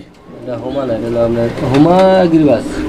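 A pair of Huma pigeons coo close by: a continuous, throaty, rolling coo that swells and dips, heard alone without talk.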